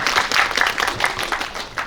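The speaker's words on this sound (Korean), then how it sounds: "큰 박수 부탁드려요" An audience claps after a film screening Q&A at the Seoul Independent Film Festival, a short burst of dense, steady applause that fades slightly toward the end.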